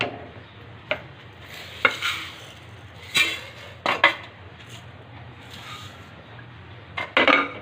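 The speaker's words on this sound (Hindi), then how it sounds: "और इसको थोड़ा सा चम्मच मुसलसल हिलाते जाएं, क्योंकि अब ये बनने पे आ गई है" A spoon scrapes and knocks against a pot of thickening kheer with sugar added, irregular metallic clinks over a low steady hum.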